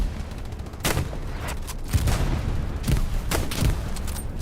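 Gunfire in the World War II shooter Hell Let Loose, several loud sharp shots and short bursts spaced across a few seconds against a steady rumbling battlefield bed, with no talk.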